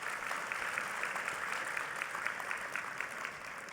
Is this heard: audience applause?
yes